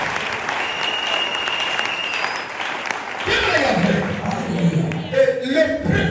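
A church congregation applauding together, a broad burst of clapping that swells in the second half and holds steady, with a voice heard faintly near the start.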